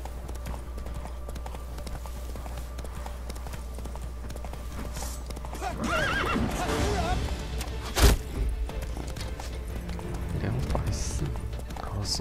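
A horse in The Witcher 3 gallops with a steady, rhythmic clip-clop of hooves throughout, under continuous game ambience. A voice speaks briefly over it, and a sharp thump lands near the middle.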